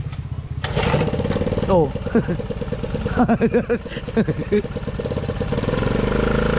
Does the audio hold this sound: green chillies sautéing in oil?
no